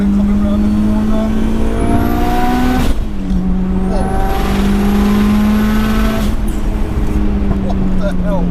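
A 550bhp 2.3-litre stroker Mitsubishi Evo 6 revs hard from a launch, its loud engine note climbing steeply through first gear, dropping at a shift and rising again, with people talking excitedly over it.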